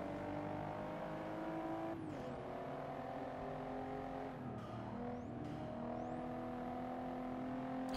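A Maserati in the racing game Forza 6 drives with a steady engine drone that dips and climbs through several gear shifts, with a faint tire hiss and no voices.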